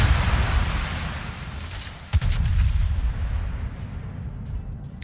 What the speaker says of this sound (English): So pop some shots away against the Leon.